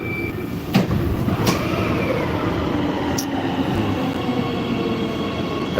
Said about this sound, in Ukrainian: Поїзд як в СССР. Він не в СССР, він в Чехії зроблений.